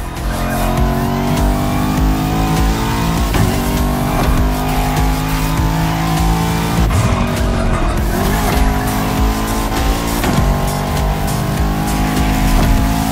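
A Bugatti Veyron and a Bugatti La Voiture Noire race in the video game The Crew Motorfest, engines droning loud and steady with rising revs and brief tire squeals throughout.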